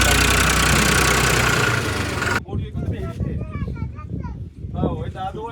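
A tractor engine runs in a farm field, a loud, rough, steady roar for a couple of seconds before giving way to people talking over fainter background noise.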